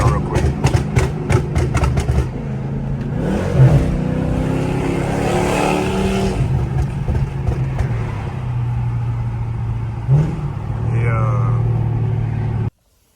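Dodge SRT car accelerating hard, its engine roaring and rising in pitch through gear changes, loud and close from the driver's seat for most of the clip, then cutting off abruptly.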